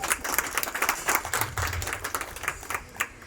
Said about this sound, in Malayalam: അദ്ദേഹത്തിന് നല്ല കയ്യടി ആവാട്ടോ